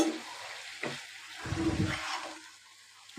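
Bitter gourd cooks with shrimp and spices in a pan: a soft sizzle with a few stirring scrapes and bursts, close and fairly quiet, with no talking.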